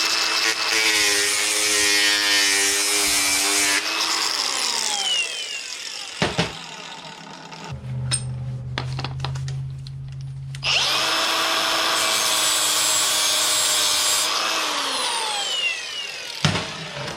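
A high-pitched Milwaukee M12 die grinder whines loudly as a sanding disc bites into a metal edge, spinning down, pausing with clunks, then revving and grinding again.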